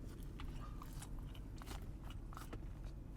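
Crisp crunching bites into diner fries topped with gravy and cheese, several close, quick chews and crunches running steadily through the moment with no talking.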